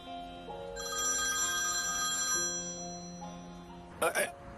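A telephone rings with a bright, repeating electronic tone that runs steadily for several seconds, then a short burst of sharper clattering noise near the end, heard in a quiet indoor room.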